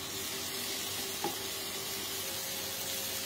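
Tomato puree and fresh seasonal tomato cooking in a pan, giving a steady low sizzle with a single brief stir or scrape partway through, heard alone at moderate level.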